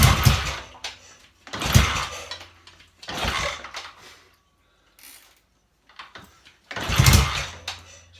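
A BSA A70L Lightning motorcycle engine cranks over with ignition on and no throttle, in several loud mechanical bursts separated by short pauses, sounding close by with no talk.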